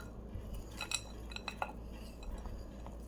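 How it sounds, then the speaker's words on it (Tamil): Jaggery is added to a pot of sweet mango pickle, giving several light metallic clinks and scrapes of a spoon against the vessel, scattered and close, with no talking. "இப்போ இதில் வெல்லம் போட்டுடலாம்."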